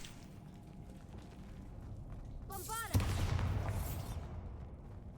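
A Bombarda blasting spell detonates in Hogwarts Legacy: a rising magical whoosh ends in one sharp, loud explosion, followed by a rumbling roar and debris crackle that decays over the next second.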